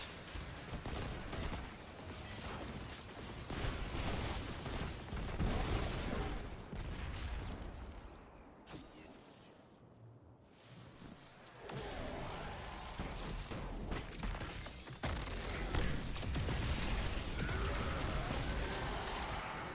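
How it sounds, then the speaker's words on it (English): Hand cannon gunfire in Destiny 2, heavy dense game combat with rapid shots and blasts running almost throughout, loud, easing briefly near the middle before resuming. "Using this fucking hand cannon."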